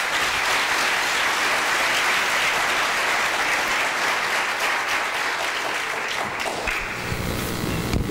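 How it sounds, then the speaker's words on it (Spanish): An audience at the Universidad Politécnica de Madrid bursts into sustained, dense applause welcoming the speakers, loud and unbroken for several seconds before thinning slightly at the end. "vamos a darle la bienvenida con un aplauso"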